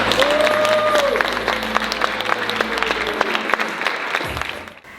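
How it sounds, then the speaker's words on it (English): Loud audience applause, many hands clapping densely at once, with a few sharp individual claps standing out before it fades at the end. "give Asaya Firebrace a big round of applause"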